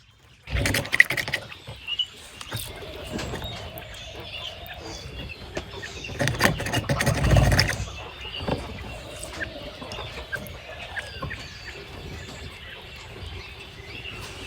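Chickens cluck and murmur close by, with brief rustling and handling noises in between, a steady low background of poultry chatter throughout.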